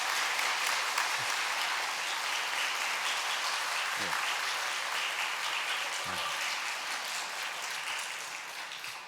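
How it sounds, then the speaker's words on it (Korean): A church congregation applauds together at a Korean Sunday thanksgiving service, a dense steady clapping that holds for several seconds and slowly fades, with a few faint voices underneath. "우리 감사한 박수 한번 하시겠습니다"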